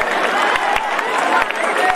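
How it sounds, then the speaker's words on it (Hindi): Spectators at an outdoor Ramlila performance in Azadpur clap steadily in a sustained round of applause, with crowd murmur and a few sharp thumps mixed in. "जोरदार तालियां बजा दीजिए।"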